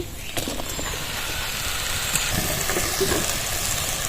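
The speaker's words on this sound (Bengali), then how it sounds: "কোষাগুলো কড়াইতে ঢেলে দিচ্ছি" Pointed gourd peels poured into a hot wok release a steady, even hiss of frying at moderate loudness, with a few faint clicks and no voices.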